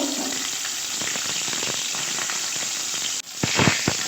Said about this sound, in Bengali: প্রথমেই আমি মাছের মাথাটা ভালো করে ভেজে নেব